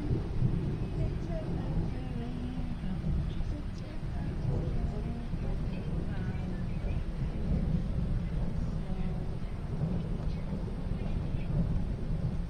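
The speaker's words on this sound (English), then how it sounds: "It's no lightning, it's just constant rumbling." Faint, constant low thunder rumbles over Risca during a storm, a steady distant roll with no sharp cracks, continuing through the whole stretch.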